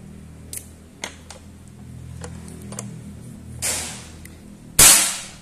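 A PCP Predator Tactical air rifle fires at a silhouette target: a few small ticks and clicks, then a sharp crack near the end, close and fairly loud against a quiet background.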